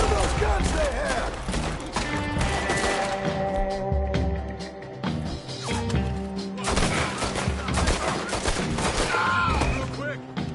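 Gunfire rattles through a Red Dead Redemption 2 fight, with dense bursts and volleys layered over game music and talk, loud and continuous for most of the stretch.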